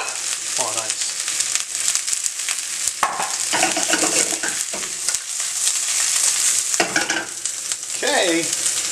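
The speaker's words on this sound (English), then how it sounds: "our shrimp are just going to take a few moments to cook" Shrimp sizzle and crackle steadily in a hot stir-fry pan, a dense frying hiss running throughout with occasional stirring scrapes and clatter.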